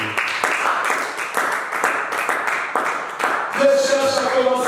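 A church congregation applauds with steady, dense clapping, loud and fairly close throughout, while a voice and some musical tones rise near the end.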